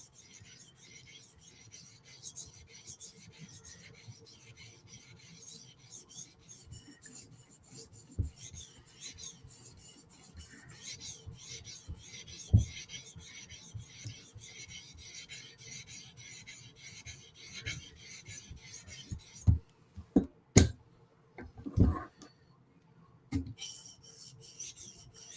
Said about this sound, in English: I'm going to do 2 passes of 400 grit because there's still a burr.